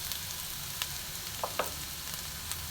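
Onion and garlic sizzling in a pan for pumpkin-coconut chops, a low continuous fry with a few sharp pops and crackles standing out, no talking.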